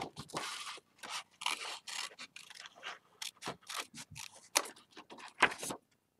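Scissors cut small shapes from design paper in short, quiet snips and scraping strokes, irregular bursts with brief pauses between them, close up in a still room.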